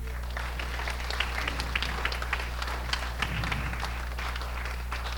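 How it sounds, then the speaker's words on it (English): An audience claps after a talk on rabies in Thailand, a fairly faint, scattered round of applause over a steady low hum, lasting several seconds. "I think a round of applause might be in that order here."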